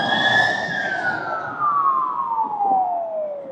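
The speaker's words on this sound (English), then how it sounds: "Been a fair few sirens yesterday. There's another one now." A loud siren wails steadily, its pitch slowly sliding downward as the emergency vehicle passes nearby on a street in Innisfail, Australia, with road rumble underneath.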